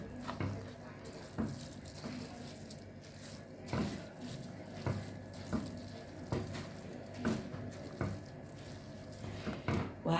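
Minced meat from the freezer sizzles steadily in a hot pan while being stirred and flipped, with soft scraping knocks recurring about every second over the constant frying hiss.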